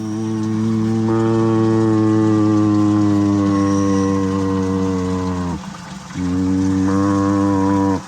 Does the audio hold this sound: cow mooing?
yes